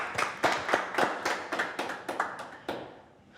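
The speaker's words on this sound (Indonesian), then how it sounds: "Tepuk tangan buat Dios." A group of people applauding a guest at the close of a comedians' talk show, about a dozen sharp, even claps in a steady rhythm, close and clear, fading out at the end.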